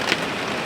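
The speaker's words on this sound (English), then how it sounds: "Whether it's light rain or heavy rain, it's always raining." Rain patters steadily on a hot tent in a cold forest, a dense close hiss with a couple of brighter drop impacts on the fabric.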